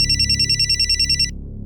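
A telephone rings loudly and close by inside a home, its repeating electronic ringtone warbling steadily for over a second before cutting off, over a low background hum.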